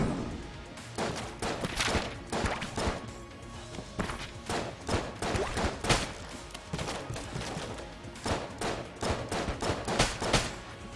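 Rapid bursts of the Marine's sidearm firing in the Enter the Gungeon game, dense clusters of punchy shots repeating in quick volleys, loud and close, with brief gaps between bursts and no talking.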